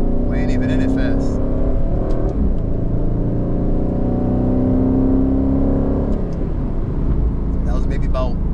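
An Aston Martin Vantage of about 520 horsepower accelerates at roughly 30% throttle, its engine rising in a loud, rising drone that rumbles close inside the cabin, with people talking over it.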